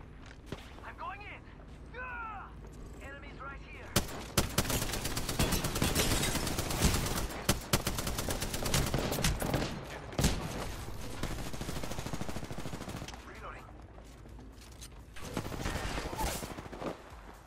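Dense rapid gunfire in the video game Apex Legends, loud sustained bursts of automatic shots with brief gaps, heard up close while a player talks over it.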